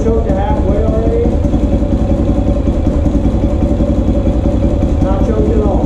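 A Honda XR400R motorcycle with carburetor jetting mods idles loud and close with a steady, throbbing thump and a little clatter, running evenly throughout.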